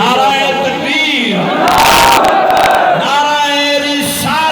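A large crowd at a religious gathering roars back a loud collective chant in answer to a call, the voices swelling into a dense, sustained shout for a couple of seconds before falling away.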